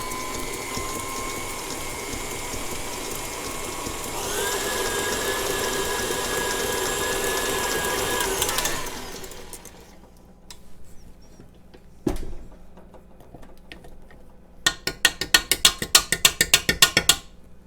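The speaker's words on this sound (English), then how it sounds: "Okay, so I'm going to go ahead and blend that" A blender whirs through keto chocolate chip cake batter, a steady motor drone that rises in pitch for several seconds and then cuts off, followed by quieter clicks and a burst of rattling clatter.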